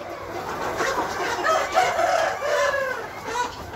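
A Vietnamese native rooster of the Mekong Delta type crows once in a drawn-out call, fairly near, over a steady background of farmyard noise with other fowl faintly around.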